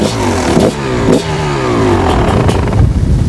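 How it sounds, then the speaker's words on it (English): TM 300MX two-stroke motocross bike, a 2019 model, firing up on its electric starter and revving hard, loud and close, with the engine note rising and falling in quick blips. "Two-stroke electric start."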